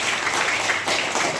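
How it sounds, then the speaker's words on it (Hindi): Students in a classroom clap for a classmate, a dense burst of many hands together, loud and continuous for a moment with no voices over it. "ताली बजा दो एक बार"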